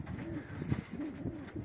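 Pigeons kept in a backyard loft coo in soft repeated rolling phrases, close by, in cold winter air with no talk.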